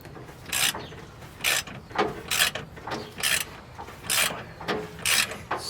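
A puller tool draws the crank pulley off an LS engine while a pry bar holds it, heard as regular ratcheting bursts about once a second, close and moderately loud, with no talking.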